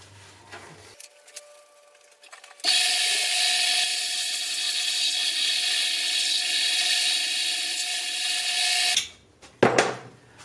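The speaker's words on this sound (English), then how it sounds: "putting it on the end of the sander here" A power sander works over glued wood, starting abruptly and running as a loud, steady high whine for about six seconds before cutting off, with quieter handling noises before and after.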